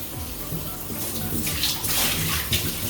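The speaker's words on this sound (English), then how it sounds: "I got the shower running" A shower runs into a bathtub as a steady, close rush of water, with splashing that grows louder partway through.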